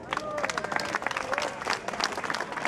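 An audience at an evening light festival in Longwy claps for event providers, uneven scattered hand claps mixed with crowd murmur and some voices talking underneath.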